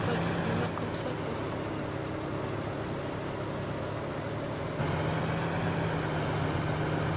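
A tractor engine idles in the farming game Farming Simulator 2013, a steady, low, continuous drone that stays constant throughout, with a brief slight shift in tone partway through.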